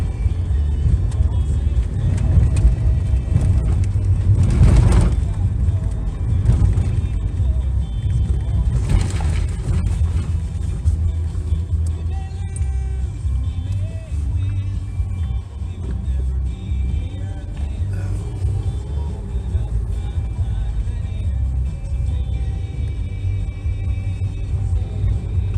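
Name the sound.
car driving on a country mountain road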